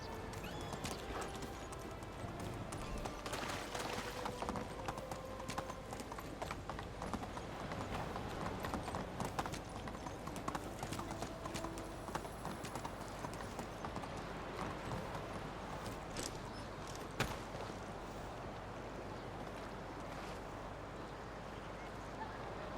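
Horse hooves clip-clop steadily while riding through the Medieval Dynasty video game, a continuous rhythmic trot with occasional whinnies and faint ambient game sounds beneath.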